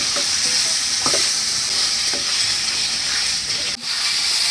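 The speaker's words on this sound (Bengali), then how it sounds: "এখন মশলার সাথে আলুগুলোকে একটু কষিয়ে নেব" Cut potatoes stir-fried with spice masala in a hot pan: a loud, steady sizzle runs throughout, with occasional scraping stirs and a brief dip near the end.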